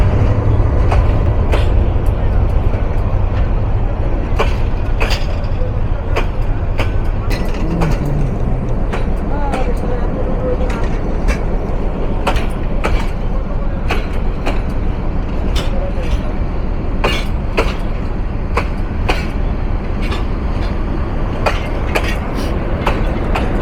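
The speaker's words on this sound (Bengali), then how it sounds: "ট্রুপাস করে যাচ্ছে আন্তনগর ব্রহ্মপুত্র এক্সপ্রেস" The intercity Brahmaputra Express passes a waiting commuter train at Rajendrapur station, heard from the locomotive cab: a loud, continuous rolling rumble and rattle with repeated clanks of wheels over rail joints, lasting the whole time.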